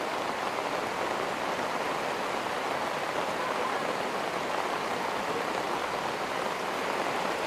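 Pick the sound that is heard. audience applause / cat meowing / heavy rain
heavy rain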